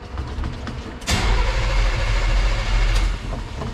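The engine of a slammed 1952 car that has not run in a while cranks briefly, then catches. It settles into a loud, rough, close idle that rumbles on to the end.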